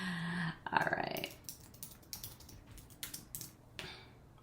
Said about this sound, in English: I'm trying to type and talk at the same time.